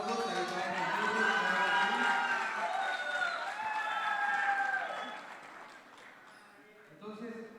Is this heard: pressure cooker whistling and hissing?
no